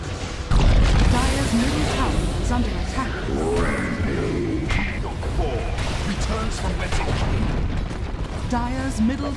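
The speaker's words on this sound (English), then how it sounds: "Dire's middle tower has fallen." A tower crumbling in Dota 2, heavy booming crashes and rumbling debris amid dense game effects, loud and sustained, with an announcer voice over the action.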